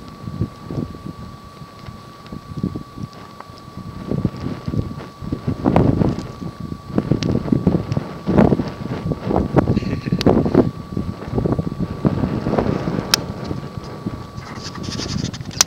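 Gusty wind blows outdoors around a small campfire, a rough rumbling rush that swells and buffets in waves and masks most other sound, with a faint steady tone running underneath.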